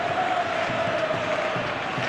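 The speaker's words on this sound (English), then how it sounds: "Crowd appreciates good football all round there" Stadium crowd in an eFootball simulation of Real Madrid against Getafe, a steady, loud wash of cheering and applause filling the whole moment without breaks.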